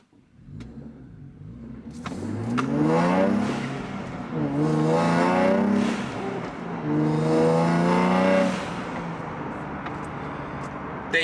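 A Nissan Z with an upgraded exhaust pulls briskly away from traffic lights, its raspy engine rising in pitch through two strong gear pulls with a brief shift dip between, close and loud.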